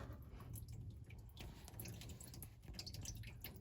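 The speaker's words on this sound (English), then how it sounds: "just rinsed it out a little bit with my hose" Water from a garden hose splashes and trickles inside a rusty Honda Goldwing GL1100 Interstate fuel tank, a quiet, close, continuous watery patter and dripping.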